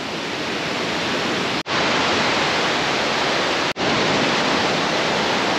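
Steady roaring rush of a waterfall beside a river, loud and continuous, with two very brief cuts in the sound.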